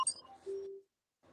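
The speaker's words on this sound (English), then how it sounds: "that's my alarm." A phone alarm sounds as a live stream reminder, a quick run of high electronic beeps followed by a longer lower tone, then it stops abruptly into silence.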